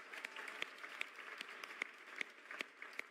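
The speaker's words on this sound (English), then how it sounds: "more round of applause" An audience applauds during the EA Sports FC 24 reveal livestream. Scattered hand claps come in a quiet, distant patter with a few sharper individual claps standing out.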